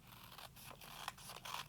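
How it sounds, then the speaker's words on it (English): Craft scissors snipping through several stacked sheets of paper to cut out a snowman shape, a quiet close run of crisp repeated cuts and scraping with no voices. "take your craft scissors"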